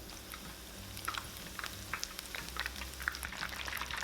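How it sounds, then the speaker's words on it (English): Battered lotus root slices frying in a pot of hot oil, a steady low crackle and fizz with scattered brighter pops throughout, close and fairly quiet with no talking. "Dip the lotus roots in the batter and place them in the pot,"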